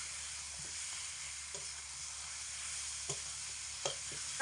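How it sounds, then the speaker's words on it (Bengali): Mutton pieces and fat fry with spices in oil, giving a constant close sizzle with occasional scraping stir strokes and light knocks against the pan. "তো এইভাবে মাংসের পিস আর চর্বিগুলোকেও কিন্তু আমি একসঙ্গে কষিয়ে নেব।"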